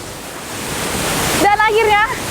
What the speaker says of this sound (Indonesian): Dan akhirnya sampailah kita di air terjun yang pertama yang kita datangin, yaitu air terjun Pelangi.